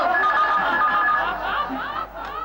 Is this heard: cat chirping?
no